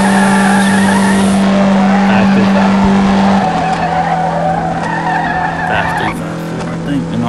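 A Jeep Trackhawk launches at a no-limit drag race: loud, steady engine roar with tire squeal and skidding throughout, a sustained drone that shifts pitch midway, heard close amid crowd noise.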